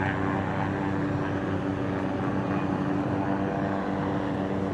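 Steady droning rotor and engine noise from helicopters circling over a film-set train wreck site, a continuous loud wash of sound with no talking.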